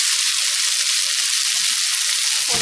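Snake gourd sautéing in a pan, a loud continuous hiss of hot oil with a brief clatter near the end.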